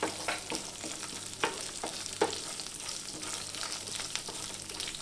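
Skin-on peanuts are dry-fried in a pan at home for chutney, with repeated scraping stir strokes over a faint, continuous sizzle, heard up close and quiet.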